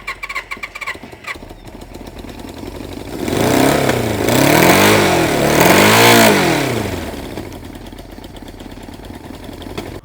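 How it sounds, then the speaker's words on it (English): Vintage motorcycle engine (Honda or Suzuki) with its air intake taped down to a quarter, revving up in repeated rising and falling swells, loud and close, then settling back toward idle. "that certainly is now revving up"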